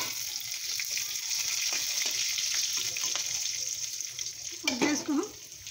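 Curry leaves hit hot oil for sambar with a steady, close sizzle and frying crackle that runs throughout, followed by a brief clatter and a stir near the end.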